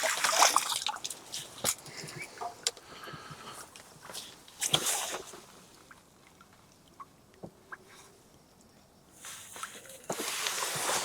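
A caught fish splashes and thrashes in water as it goes into a keep net at a match fishing lake, with bursts of splashing and dribbling drops at the start and near the end.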